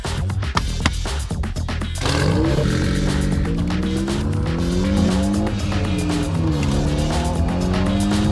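Ariel Atom 4 sports car engine revving loudly and steadily, its pitch sweeping up and down through gear changes while warming up, close and dominant with a roaring, rasping tone and no talking.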